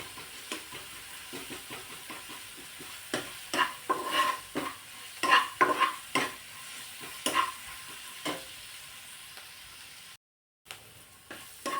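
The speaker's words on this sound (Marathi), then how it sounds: "आता हे थोडंसं आपण तेलावरती परतून घेणार आहोत" Green chilli and garlic paste sautés in oil with a soft sizzle under repeated scraping stirs of a spoon against the pan, close and fairly quiet, with a brief silent gap near the end.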